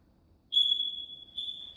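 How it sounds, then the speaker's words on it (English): A high-pitched electronic beep from smoke detectors sounds, one sustained tone followed by a second shorter pulse, clear against a quiet room. "Got some smoke detectors going off."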